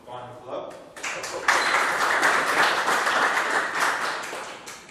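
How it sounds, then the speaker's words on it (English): Audience applause after a technical conference presentation, starting with a few scattered claps and a brief voice, then swelling into steady, moderately loud clapping from a small room that tapers slightly toward the end. "Let's give him a final clap."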